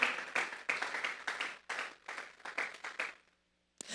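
A church congregation claps together in several rhythmic bursts, lively but fairly quiet, then trails off into near silence before one last clap.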